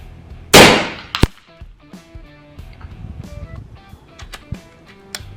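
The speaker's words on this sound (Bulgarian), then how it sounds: "Първи изстрел." An FX Dreamline Power Pup 5.5mm air rifle fires one loud, sharp shot near the start, followed by a quick metallic clack and fainter clicks and handling noises.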